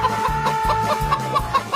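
Chickens cluck close by in a busy, repeated rhythm, with short overlapping calls sounding every few tenths of a second and no one talking over them.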